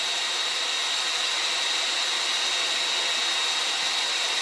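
Drill bit boring through the sheet-metal hood of a Ford 4400 tractor, a steady, loud high-pitched whine and hiss holding without a break throughout.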